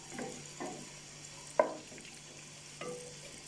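Onions sauté in oil in a pan with a quiet, low sizzle under a few distinct stirring scrapes, one sharper clink in the middle.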